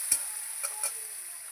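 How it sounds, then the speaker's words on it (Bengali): Spice masala with a splash of water fries in a pan for a hilsa fish dish, giving a soft, steady sizzle with a few light spatula scrapes and taps as it is stirred. "এবার আমি নেড়ে নেব।"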